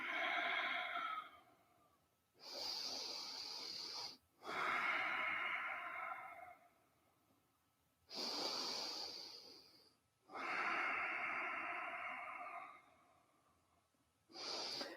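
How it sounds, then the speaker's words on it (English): Slow, deep breaths during a Kundalini yoga session, each long inhale and exhale clearly audible and close, repeating in an even rhythm with brief quiet gaps between. "Long, deep breathing."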